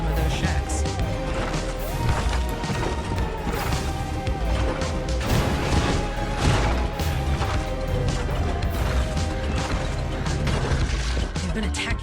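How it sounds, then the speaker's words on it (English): Enemies smashing through wooden barricades in a VR shooter game: repeated loud crashes and thwacks over a dense, constant din of game noise and music, with no pauses. "They keep smashing through those barricades"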